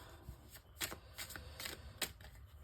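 Tarot cards are shuffled and drawn by hand, soft riffling flicks and slides in several quick bursts, very quiet and close, with no talking over them.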